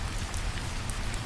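Steady rain falls in a dense, even wash of hiss and patter that stays loud and close from start to finish, with no voices over it.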